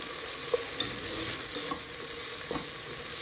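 Tomatoes and spices stirred in a cooking pot for a country-chicken pulao, with a soft steady sizzle and a few light scraping clinks of the spoon, close and alone.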